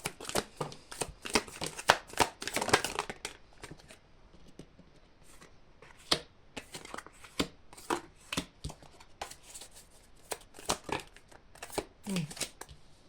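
Tarot cards being shuffled for a reading, close and fairly quiet, with repeated riffling and slapping bursts in an irregular rhythm throughout.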